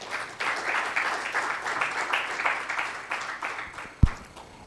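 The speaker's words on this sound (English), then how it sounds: "Thunderous round of applause" Round of applause from a global conference audience welcoming a speaker, sustained dense clapping that swells and holds, with a sharp thump near the end as it begins to fade.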